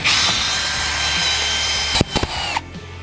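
A power drill whirs steadily at high speed for about two seconds, then stops with a few short clicks and rattles nearby.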